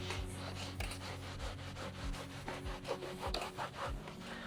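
A towel scrubs back and forth over a leather car seat bolster during interior detailing, giving a steady, close rasping rub with repeated strokes and no talking.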